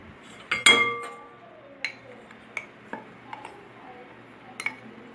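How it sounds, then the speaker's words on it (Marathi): Wheat flour, powdered sugar, desiccated coconut and ghee are mixed in a bowl for coconut cookies, with a spoon clinking and tapping against the bowl: a bright rattle first, then scattered single clinks in a quiet room, no talking. "आता हे मी सर्व साहित्य एका बाउलमध्ये मिक्स करून घेते।"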